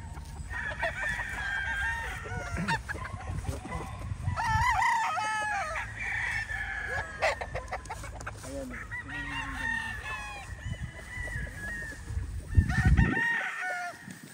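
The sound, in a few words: gamefowl roosters crowing, sweater roundhead breed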